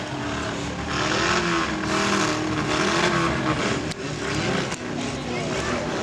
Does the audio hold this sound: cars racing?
yes